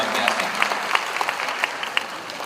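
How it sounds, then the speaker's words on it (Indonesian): An audience applauding a panel at an Indonesian diaspora economics discussion, dense steady clapping from a sizable crowd filling the room, sustained and even throughout. "So tepuk tangan sekali lagi untuk panel kita yang luar biasa."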